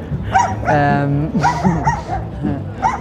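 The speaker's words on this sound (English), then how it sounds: "sorry, there's an angry dog." An angry dog barks and yips in a few close, sharp bursts, mixed with a person speaking over it.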